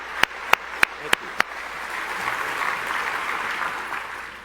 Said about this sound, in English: Would you please join me in a round of applause for all of these individuals and organizations?